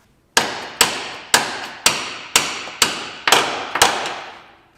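Eight heavy metallic hammer blows ring out at an even pace, each decaying briefly, as a rusted bolt is driven through a bushing on an old abandoned Mopar.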